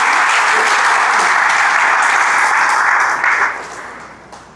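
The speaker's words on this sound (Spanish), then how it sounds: "Denle un aplauso a Dios." A church congregation breaks into loud, dense applause, a thick roar of many hands clapping that stays strong for several seconds before thinning and fading away.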